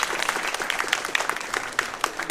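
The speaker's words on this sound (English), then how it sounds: "could I ask one more round of applause" Brief, dense audience applause at a human trafficking symposium: many hands clapping steadily at moderate volume for about two seconds, with no voices over it.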